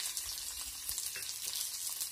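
Quiet, steady sizzling of chopped garlic frying in hot oil, with soft crackles and pops throughout.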